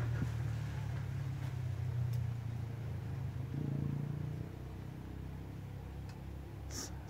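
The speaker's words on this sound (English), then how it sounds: "Sounds like they drove by the camp." Vehicles drive past a camp, a low engine rumble holding steady in the background for most of the clip and swelling slightly midway before easing off, with faint outdoor noise around it and no talking.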